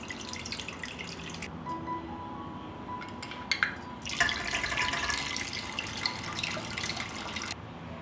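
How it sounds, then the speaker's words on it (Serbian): Water poured from glass jars into a cooking pot for compote: intermittent streams splash and gurgle with occasional glassy clinks, then a longer steady pour runs close by before stopping. "vodu iz tegle presipam u šerpu"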